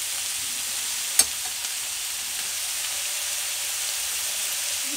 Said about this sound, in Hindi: जब सब्जी भुनेंगे गैस के फ्लेम तेज कर लेंगे थोड़ा सा।